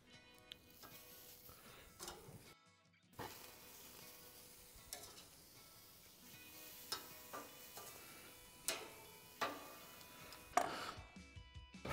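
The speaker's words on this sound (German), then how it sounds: "jetzt kommt das Ganze nochmal schnell hier auf die Sizzle Zone" Lamb leg steaks searing on the sizzle zone of a grill, with a soft continuous sizzle broken by scattered sharp ticks and clicks, mostly faint and close.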